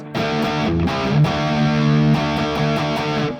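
Distorted electric guitar plays chords and riffs through a Jam Buddy 2 amp modeler, heavy and saturated, with short gaps between phrases and no talking.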